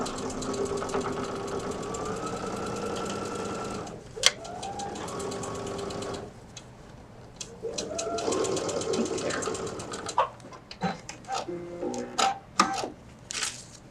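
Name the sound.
sewing machine top stitching zipper pouch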